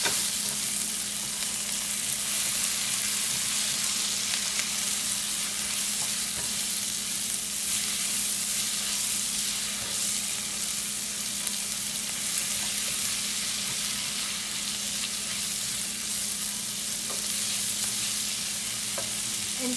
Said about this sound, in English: Now into the onions I'm going to add tomatoes.